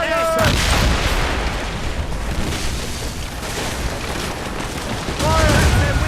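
Ship cannons in Assassin's Creed Rogue fire on command in a rolling broadside of deep booms and blasts, loud and continuous, with a shouted voice at the start and end.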